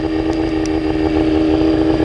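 Twin helicopter engines idling during a pre-flight run-up, a steady loud drone with constant turbine whine and no change in level, with no voices over it.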